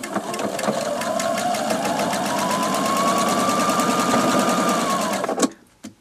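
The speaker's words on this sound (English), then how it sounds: "I need to sew a partial seam down to round about there" A sewing machine stitches a partial seam in quilt piecing, a fast steady rhythmic run of needle strokes, close and loud, stopping abruptly near the end.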